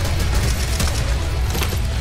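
Sustained, dense gunfire in a CS:GO zombie escape match, a rapid, continuous rattle of shots that stays loud and close throughout, with no pauses and no voices.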